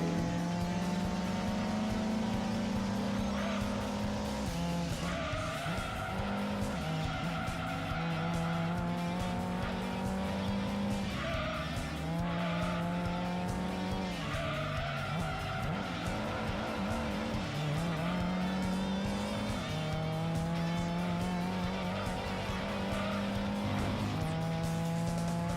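Race cars roar through the Gran Turismo 2 video game, engines rising and falling in pitch as they shift gears, with tires squealing and skidding through corners, loud and continuous.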